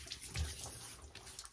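Hot water runs from a tap into a sink in a steady, faint splashing stream with a slightly louder gush near the start.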